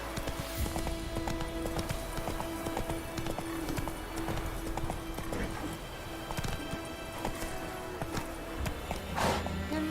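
Horse hooves galloping in a steady clip-clop rhythm, with whinnies, as a horse named Roach is ridden in The Witcher 3; continuous and fairly close, over faint background game sounds.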